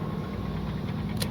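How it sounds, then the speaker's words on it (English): A vehicle engine idles steadily in Stormworks, a low, even mechanical drone with a faint knocking rhythm, and a brief high click near the end. "Got engine hooked up"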